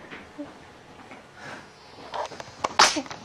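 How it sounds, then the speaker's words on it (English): After some faint shuffling, a sudden loud sneeze bursts out near the end, close by. "You always sneeze more than once."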